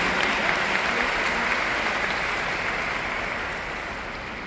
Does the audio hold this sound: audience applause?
yes